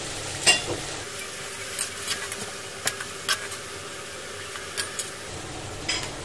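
Potatoes sizzle and fry in a pan with a steady soft crackle, broken by scattered clinks and scrapes of stirring.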